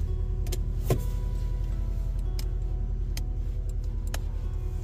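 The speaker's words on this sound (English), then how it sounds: "The folding mirrors on that side." Electric folding mirrors on a 2.0 WRX automatic 4WD Subaru Impreza folding in, a faint motor whir under a steady idle hum with a few sharp clicks scattered through.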